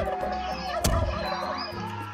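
In the Roblox game Wacky Wizards, a turkey lets out clucking, gobbling fowl calls over game sound, with one louder burst near the middle.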